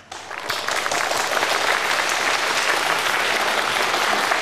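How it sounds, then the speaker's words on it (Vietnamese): Sustained applause from a studio audience on a televised student quiz show, starting abruptly after a brief quiet moment and holding as a dense, even clatter of many hands, loud and close, with no voices. "chúng tôi cũng đã nhận được một tràng pháo tay từ các quý vị khán giả"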